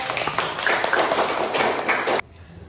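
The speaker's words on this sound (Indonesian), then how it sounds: "Beri tepuk tangan untuk kelompok 2" A classroom of students applauds a presenting group, with dense, loud clapping for about two seconds before it stops abruptly.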